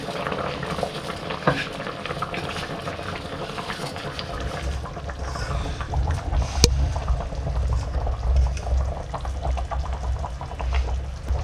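Washed rice tumbles into a bubbling pot for chicken pulao, a steady churning boil with soft patter and stirring, fairly close, no voices.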